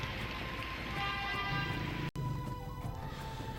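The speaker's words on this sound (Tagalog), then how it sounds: "dahil sa biglaang buhos ng ulan, binaharin ang ilang kalsada sa Dagupan City kagabi" A sudden heavy downpour at night in Dagupan City, a dense steady wash of rain on surfaces with a brief break partway through and faint horns in the background.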